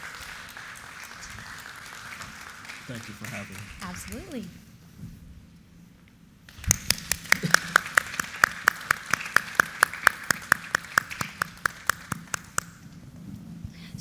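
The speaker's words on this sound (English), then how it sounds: "Clap it up, clap it up, clap it up" An audience at a live panel event on democracy and liberation bursts into applause after a brief exchange of speech, sharp individual claps ringing out near and distinct over a few seconds.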